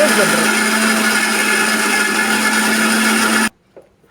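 An electric blender grinds potato mayonnaise with oil, a steady loud whirring drone that runs for several seconds and then cuts off abruptly into near silence.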